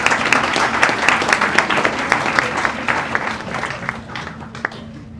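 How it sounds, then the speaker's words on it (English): An audience applauds warmly, dense clapping that gradually fades out over a few seconds. "Let's give them a big round of applause."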